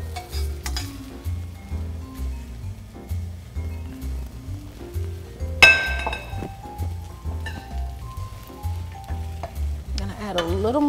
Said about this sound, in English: I'm gonna keep my pan hot because I'm gonna sear these other ingredients that I've cut for this bowl.